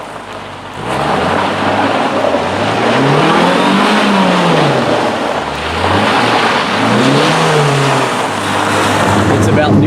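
A Porsche 944 engine hums steadily while driving, with its pitch rising and falling in two smooth sweeps as it accelerates and eases off, heard from inside over constant road rumble.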